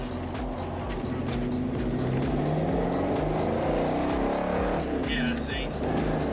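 A Ford Mustang SN95 engine idles and revs with an uneven, stumbling misfire, close and loud, its rough pulses running throughout while people talk over it.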